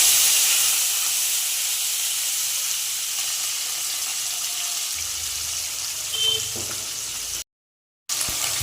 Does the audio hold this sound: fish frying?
yes